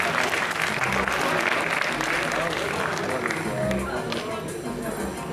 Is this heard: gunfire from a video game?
no